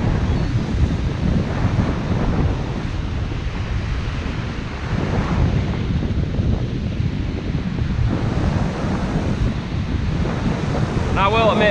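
Ocean surf and wind on a beach during surf fishing: a continuous roar of breaking waves with gusty wind buffeting the microphone, steady and loud throughout, with a faint high squeal near the end.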